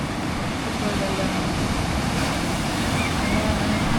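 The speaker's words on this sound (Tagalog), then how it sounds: "Ang tapang ng dagat ngayon." Rough sea surf at Bacungan beach, with a constant roar of breaking waves and strong wind buffeting the microphone, loud and steady throughout.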